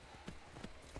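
Hooves thud in a steady clip-clop as a horse is ridden in Skyrim, three soft beats in quick succession over a dense background wash.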